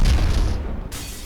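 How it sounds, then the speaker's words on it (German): A loud, booming video game explosion with a deep low-end blast that rumbles and fades over about a second, followed by a brief burst of hiss as the sound cuts off. "Ihr wolltet Explosionen, ihr bekommt sie."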